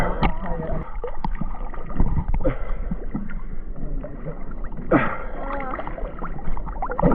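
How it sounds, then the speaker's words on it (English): Water sloshes and gurgles continuously as a crew hauls a boat through the shallows, with splashes and knocks close by. "now the crew is dragging the boat"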